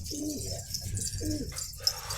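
A pigeon coos nearby, two soft throaty rolling calls in a row, with faint chirps and background noise around them.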